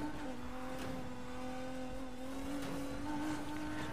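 A Mitsubishi sports car's engine in Need for Speed hums steadily, holding a smooth, even drone throughout with slight pitch shifts and no voices.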